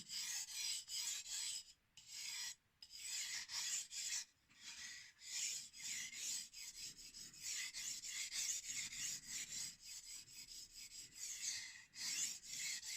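A standard stainless steel knife rasps in repeated strokes across a 10000 grit whetstone, a close, dry rubbing rhythm with brief pauses between passes and no talking.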